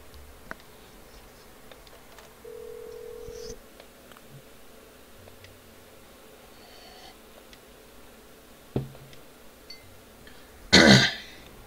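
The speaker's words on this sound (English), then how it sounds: "make a public phone call" A public phone in the video game Parasite Eve 2 plays a short steady dial tone, followed later by a few faint clicks and a loud burst near the end against quiet background hiss.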